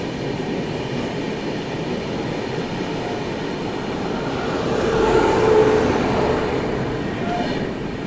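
A Duronto Express train rolls along the tracks with a continuous loud rumble that swells midway, heard from on board while skipping a junction station.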